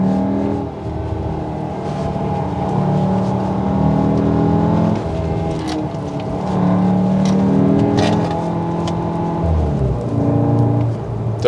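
A VW Tiguan R engine revs hard in manual mode, its tone climbing, dipping at an upshift, then pulling again in a loud, sustained whirring drone heard from inside the car without talk.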